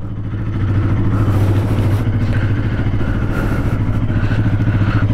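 A worn-tyred Bajaj Pulsar NS200 motorcycle engine thrums loud and close while riding, a steady low pulsing drone with a rough mechanical rattle over the top.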